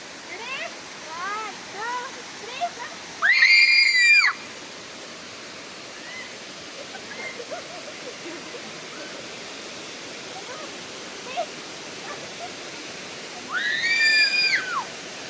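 Chelimi Chenu waterfall roaring in a steady, even rush, with high whistled bird calls or whistles rising above it in a few short bursts.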